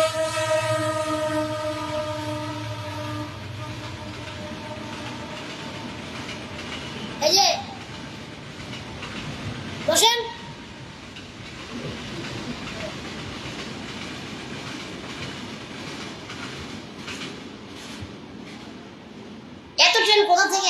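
A train rumbles past close by, with a horn sounding at the start and a loud steady rattle of wagons throughout, while someone talks over it.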